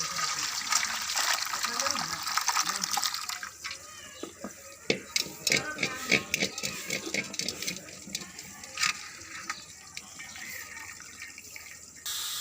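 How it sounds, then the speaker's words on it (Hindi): Water from a Pakistani white chicken yakhni pulao being strained, a steady splashing pour that gives way to sparse drips and trickles, moderately loud with a faint voice underneath. "जो हमने पानी निकाला उसको छान लेंगे।"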